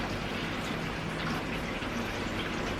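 Steady rain falls outside near a driveway where a big delivery truck has pulled up, a dense continuous patter of drops on surfaces with no talking.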